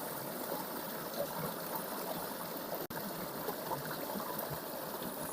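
Steady rushing of the Niagara waterfall beside the road to the regent's office on Taliabu Island, a constant broadband roar of falling water with one brief dropout partway through.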